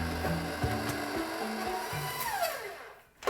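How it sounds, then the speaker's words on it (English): A hand mixer whirs steadily through chocolate chunk muffin batter, a continuous close motorized hum that shifts in pitch as the beaters work, then winds down and stops near the end. "we're just gonna mix this up until it's combined"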